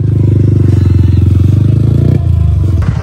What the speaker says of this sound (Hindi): यहाँ तो कुछ और ही देखने को मिला है, बाइक स्टंट्स